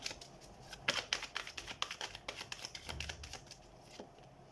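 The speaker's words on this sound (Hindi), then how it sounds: "तो हम कार्ड शफल कर लेते हैं टॉरस" Tarot cards being shuffled by hand, a quiet run of quick riffling flicks and soft card slaps, fairly close, with no talking.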